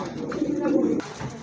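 A pair of pigeons for sale coos in a cage, one close, clear coo lasting about a second, followed by a brief quieter call.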